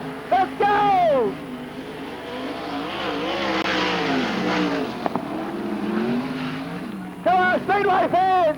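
Sprint cars roar around the Archerfield Speedway oval during an Australian title race, engines swelling and fading through the turns, with an excited announcer talking loudly over the racing noise.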